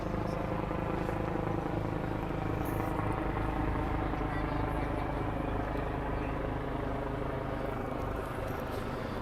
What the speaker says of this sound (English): we had quite a lot of helicopters.